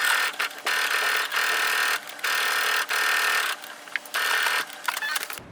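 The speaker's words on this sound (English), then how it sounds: "now I'm at the sewing machine" Sewing machine running in bursts as it stitches the side seam of a bikini top at a half-inch allowance, with short back-stitches at each end; steady, close mechanical whirring broken by brief pauses.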